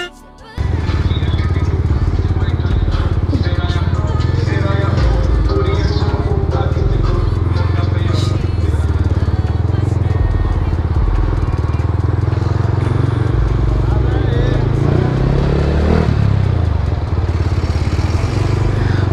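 A Kawasaki Z900 superbike engine running loud and close on a Sunday group ride, a steady throbbing idle and rumble with clattering and brief revs, other bikes and crowd noise around it.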